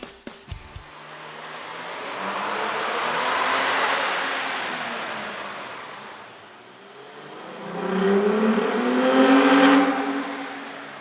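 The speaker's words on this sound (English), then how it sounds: "we ran the vehicle on the dyno to test the sound comparison versus the stock intake" A car engine fitted with a K&N 77-9037KP air intake revs up twice on a dyno, rising and falling in pitch with a steady roar, loud and close, with a brief mechanical clatter at the start.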